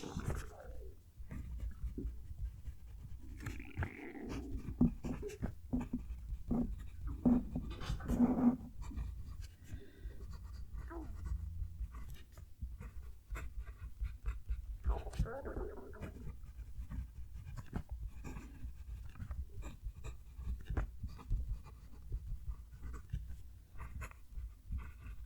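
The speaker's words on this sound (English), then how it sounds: "so you can hear the pen write" A Preppy fountain pen scratches lightly across paper up close, faint intermittent strokes with soft breathing or panting-like noise and a few quiet voice sounds in between.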